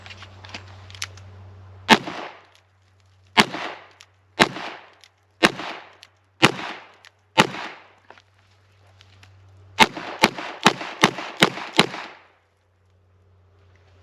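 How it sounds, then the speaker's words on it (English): Revolvers fired from the hip with thumb-cocking and fanning: sharp, loud gunshots ring out one at a time at a steady pace, then a rapid burst of five quick shots fanned in close succession. "Thumb cock and hip shoot each of these twice."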